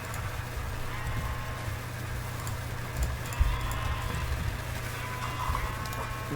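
Sheep bleating in the Minecraft video game, a few short bleats over a steady low hum of game ambience, moderately quiet and with no talking.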